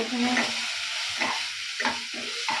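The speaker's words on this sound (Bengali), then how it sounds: "আমি তেলের মধ্যে আমি রসুনটা দিয়ে দেবো রসুনটা বেটে রেখেছি" Ground garlic paste dropped into hot oil sputters and sizzles up close, with bursts of crackling and a few stirring scrapes at irregular intervals, no voices.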